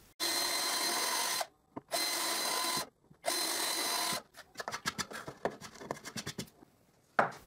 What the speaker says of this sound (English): And I drill guide holes in the marks.